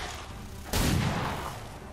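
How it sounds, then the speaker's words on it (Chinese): Gunfire in the video game XCOM 2 comes as one sudden burst partway through, loud and sharp at first and then fading over the following second. "开枪"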